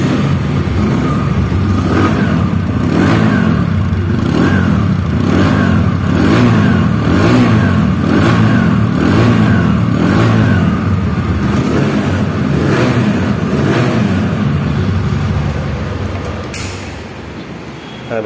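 A TVS Apache RTR 160 motorcycle engine running and revving in steady, loud pulses close by, with repeated throttle blips before it settles and fades near the end.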